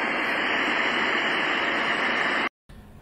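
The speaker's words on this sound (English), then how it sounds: "So here we have the HOMEDICS white noise sound maker" A Homedics white noise sound machine hisses with steady, loud, broadband noise that cuts off abruptly near the end, leaving a brief silence and then quiet room tone.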